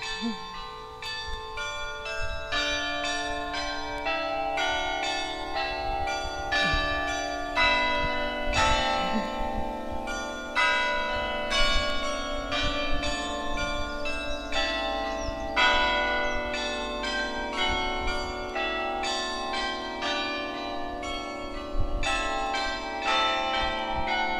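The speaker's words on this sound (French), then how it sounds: "c'était les cloches de la petite église sur la colline" Small church bells on a hilltop ring on and on, their overlapping clear tones chiming steadily at a moderate distance, with no talking.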